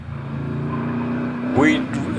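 A Morgan Plus 8 climbs the Prescott hillclimb during a British Championship event, its engine a loud sustained drone that rises in pitch near the end as it accelerates away, while a commentator talks over it.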